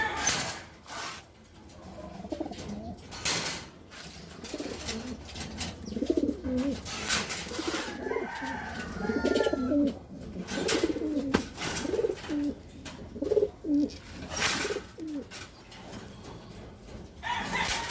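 Racing pigeons in a loft before a derby race coo softly in repeated throaty phrases, mixed with rustling, flapping bursts and other bird calls nearby.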